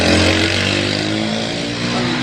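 A motorcycle engine running nearby with a loud, steady harmonic drone that rises slightly in a rev before settling, heard alone without talking.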